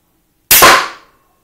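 A crossbow bolt strikes the target with one sharp, loud impact, a heavy thunk that cuts off quickly with no other sound around it.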